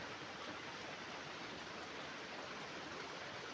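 Steady, dense hiss of heavy rainfall in a forest, constant and unbroken with no voices, like a downpour on foliage.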